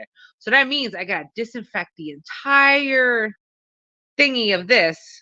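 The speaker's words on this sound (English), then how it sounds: "That was my cat." A house cat lets out one drawn-out, whiny meow close by, set between stretches of someone talking.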